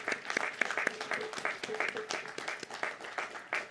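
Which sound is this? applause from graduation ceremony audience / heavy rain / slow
applause from graduation ceremony audience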